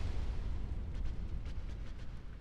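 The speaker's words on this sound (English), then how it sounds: "That's another dangerous move she has, is that explosion" A boss's explosion attack in Dark Souls lands as a loud, rumbling low blast that fills the clip, with a few crackling bursts scattered over the top and no voices.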